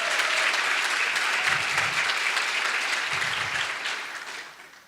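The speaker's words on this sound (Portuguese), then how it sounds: "eu queria começar com palmas para vocês" An audience of teachers claps at an education event, steady applause from a roomful of hands that stays even before fading gradually over the last second.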